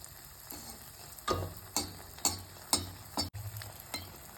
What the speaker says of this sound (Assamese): এতিয়া কেৰাহীত তেল দি দিলোঁ। দিয়াৰ পাছতে পিঠাটো এনেধৰণে গিলাচ এটাত লৈ এটা এটাকৈ ভাজি ল'ম।